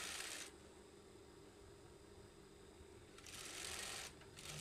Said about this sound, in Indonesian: lalu kita jahit di bagian sini